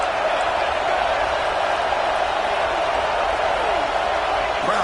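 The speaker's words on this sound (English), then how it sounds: "Crowd trying to make a difference here on fourth down" Stadium crowd roaring steadily on fourth down at a Miami vs Clemson football game, a dense sustained wash of cheering with a commentator's voice over it.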